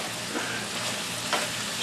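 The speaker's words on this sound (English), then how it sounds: "The bacon's been frying away happily." Bacon fries in a pot, a steady, dense sizzle and crackle with a couple of brief stirring scrapes, close and continuous with no talking.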